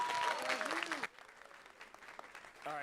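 Crowd applause at a $50,000 LAN gaming tournament final, a dense burst of clapping and cheering that cuts off sharply after about a second, leaving a softer room murmur before noise swells again at the end.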